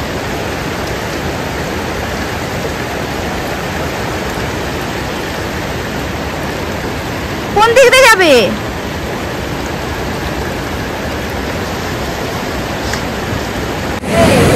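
Rain and rainwater run down toward the Doodh Ganga river in Yousmarg valley, Kashmir, as a loud, constant rushing wash, with someone speaking briefly near the middle and another short sound near the end.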